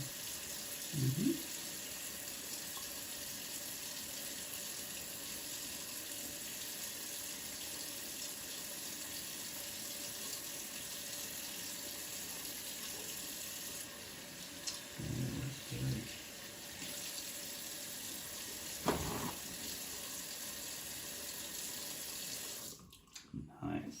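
Tap water runs steadily into a sink throughout a hand-washing session, a constant close hiss with a few brief voices and soft knocks, then the flow cuts off near the end.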